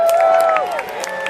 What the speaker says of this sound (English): if you support Simon De Montfort, cheer on his troops as they attack